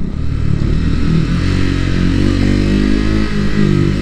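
A Triumph Scrambler 400X single-cylinder motorcycle engine thrums loudly and steadily while riding slowly in low gear, with a constant close rumble and some wind buffeting.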